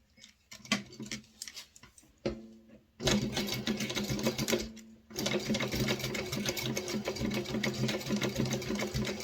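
A sewing machine stitches a minimalist wallet in quick, rattling bursts, stopping and starting a few times before running steadily, close and clear with no talking.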